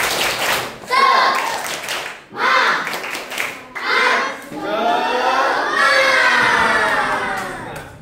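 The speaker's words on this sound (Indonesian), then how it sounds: "Oke, tepuk tangan. Tepuk semangat." Fifth-grade schoolchildren in a classroom clap their hands together in bursts, with excited shouting and crowd noise rising into a longer stretch of cheering voices.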